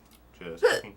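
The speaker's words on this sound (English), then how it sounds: "Did you just hiccup?" A single sharp hiccup from a person, close and fairly loud, bursting out after a stretch of quieter speech-like murmuring.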